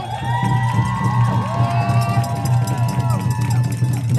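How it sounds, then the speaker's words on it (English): Outdoor rally crowd cheering and whooping for an assemblymember at Foley Square in New York, a lively mix of shouts and voices close by with a steady low hum underneath. "Let's give a round of applause for Assemblymember Catalina Cruz, the first dreamer elected to the state legislature."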